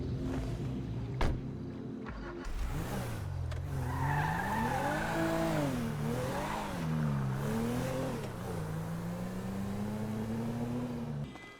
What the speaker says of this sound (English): he hopped in his car and left the area.